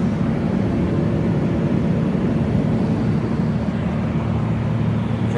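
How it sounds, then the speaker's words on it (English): Steady low cabin roar inside a private jet in flight, a constant engine and airflow drone with no talk. "We're on our plane flight."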